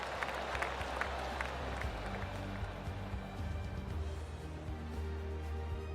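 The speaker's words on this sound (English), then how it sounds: "That deserves a golf clap." Polite golf clap from a gallery crowd in the golf video game PGA TOUR 2K25, a soft sustained patter of applause over a low ambient hum, with no speech on top.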